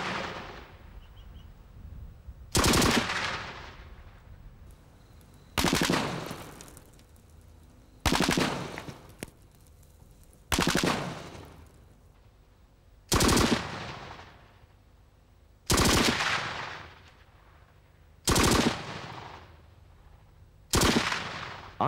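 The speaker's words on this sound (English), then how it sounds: "Due to the size and shape of the target, and the firing pattern of the Minimi, it will be difficult to ensure that the rounds hit the middle of this target." A Minimi machine gun firing at a 300 mm log target, eight loud bursts spaced a few seconds apart, each a sharp crack followed by a long decaying echo, with no talking.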